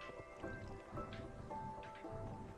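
Flowing water in the Minecraft video game, a steady liquid trickle with soft dripping accents, heard alone at moderate level.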